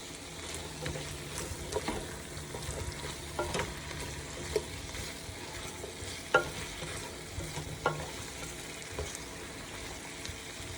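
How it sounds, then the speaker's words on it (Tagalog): Squash sautéed in a pan for ginataang hipon: a steady, soft sizzle with intermittent scrapes and knocks of a utensil stirring, close and fairly quiet, with no talk. "Then, igisa po natin ulit yan."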